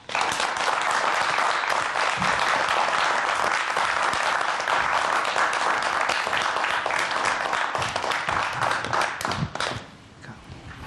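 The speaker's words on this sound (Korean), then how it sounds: "여러분 큰 박수로 맞아주시기 바랍니다" A studio audience gives loud, sustained applause to welcome a lecturer onto a science talk show, dense clapping filling the room before it tapers off near the end.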